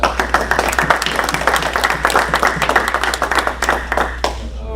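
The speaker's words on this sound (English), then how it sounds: "Let's give them a big round of applause." A Rotary Club meeting audience in Sanford, North Carolina gives a hearty round of applause, with many hands clapping densely and steadily before it thins and stops.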